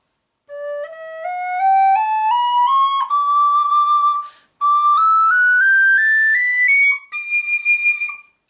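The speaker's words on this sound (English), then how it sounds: "I'm going to give you a little scale so you guys can hear the range of notes that this whistle can play" A Chris Wall SweetBrass High D tin whistle plays an ascending scale, each clear, pure note stepping higher, with a brief gap near the middle and a few shorter notes at the top, played alone and fairly close.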